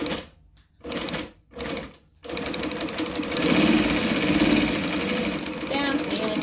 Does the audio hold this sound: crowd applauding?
no